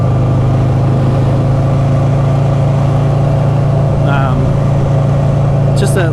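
A 2004 Buell XB12S Lightning motorcycle engine held at about 3,500 RPM while riding, a loud, steady, droning hum with wind noise as a rider talks over it.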